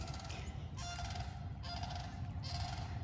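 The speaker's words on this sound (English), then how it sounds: "Sandhill crane, by the way." A sandhill crane calls outdoors in repeated loud, honking bursts about a second apart, carrying over a steady background hiss.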